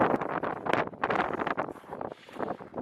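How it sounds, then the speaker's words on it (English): Strong gusty wind buffets the microphone high on Vesuvius, a loud, continuous roar with surging bursts and no pauses, close and unbroken for the whole stretch. "Man, it's so windy."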